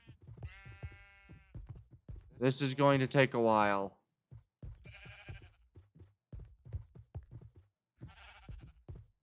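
Sheep bleat loudly in a video game, a burst of several wavering bleats in a row followed by fainter bleats, with someone talking over and between them.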